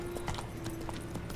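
Horse hooves in The Witcher 3 clip-clop in a quick, steady rhythm, faint and unbroken, with no talk over them.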